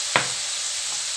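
Onions hit a hot pan with a sharp sizzling crackle, followed by a steady soft hiss of frying that continues alone.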